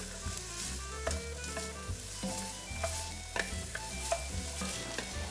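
Soffritto vegetables sizzle and fry in a pan for a classic lasagne, a steady crackle broken by scraping stirs and light clinks of the spoon against the pan, with no talk.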